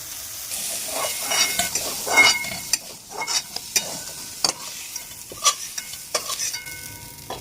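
Soya chunks fry and get stirred in a kadai, with steady close sizzling broken by repeated scraping and clinking strokes of a spatula against the pan.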